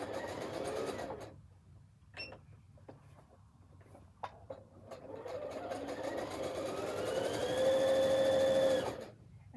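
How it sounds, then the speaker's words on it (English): A sewing machine runs with the needle-down setting on, starting in short bursts and then settling into a louder steady whirring motor hum with rapid stitching clatter. A voice speaks briefly in the quieter stretch. "Now I can start to sew, okay?"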